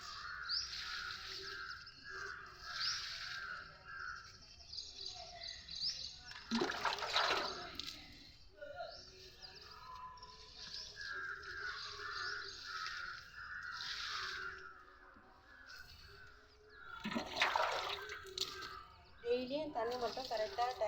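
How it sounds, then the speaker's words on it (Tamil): Water is poured onto garden plants in two distinct splashing gushes, several seconds apart, amid talking and crows cawing in the background. "செடியிலேருந்து தண்ணி வெளியே போகாமல் ஊற்றணும்."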